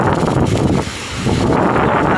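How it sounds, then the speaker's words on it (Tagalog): Strong typhoon rain and gusting wind in the town center of Basaklan, a steady, loud roar of wind and rain with a brief lull in the middle, no voices. "malakas na po ang ulan at hangin"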